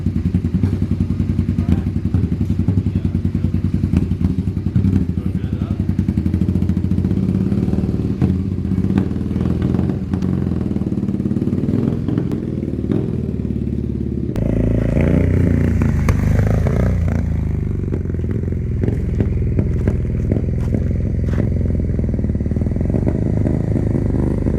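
A custom-built Suzuki SV650 street tracker engine runs close and loud, a steady rumbling idle with light clatter, then a sudden change partway through into a throatier revving note.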